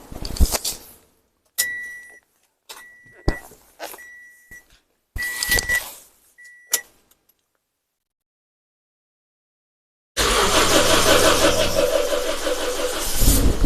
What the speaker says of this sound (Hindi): अब सलफ मारते हैं गाड़ी को।